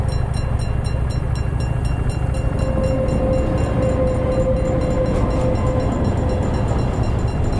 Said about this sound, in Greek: Και θα το δούμε και το τρενάκι μας.